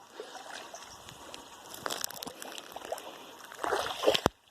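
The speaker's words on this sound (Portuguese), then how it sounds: "aconteceu uma chuva de 110 milímetros, onde fez esse riacho, estado de barreira em barreira" A rain-swollen creek in the backcountry of Arneiroz, Ceará, runs after 110 mm of heavy rain, a steady faint rushing wash with scattered splashes that rise louder toward the end.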